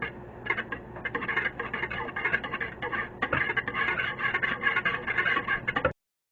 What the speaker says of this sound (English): So I'm just whisking this up.